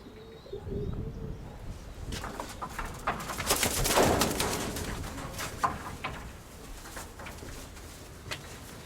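Grey scaly pigeons coo inside a loft, soft low calls rising and falling with rustling and wing flutters, close by and alone without talk.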